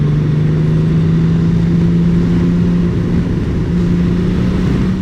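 A Honda Goldwing's 1.8 liter engine pulls hard while overtaking in tour mode, a steady low drone with a sustained hum that holds and rises slightly, loud and close, with no voices.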